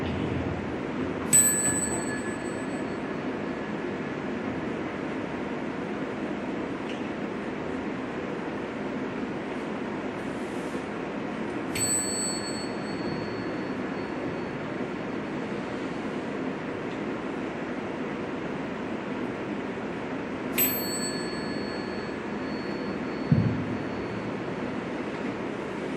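Three clear bell strikes ring out about ten seconds apart during a guided therapy relaxation exercise, each with a bright ringing tail, over a steady low background hum.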